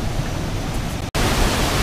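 A waterfall cascading near Dalat, a dense, loud, continuous roar of rushing water close by, with a momentary break in the middle.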